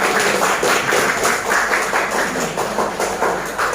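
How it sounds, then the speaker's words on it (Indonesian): A classroom full of people claps together in a dense, even burst of applause that keeps going for several seconds at a steady level, with no talking. "Oke, tepuk tangan untuk kita semua."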